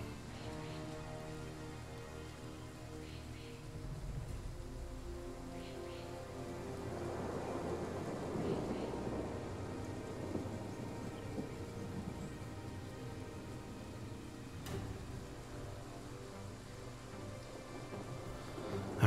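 Steady rain with low rolling thunder in a Total War battle, a continuous wash of downpour under a game soundtrack, swelling in the middle with a deep rumble and a sharp crack near the end.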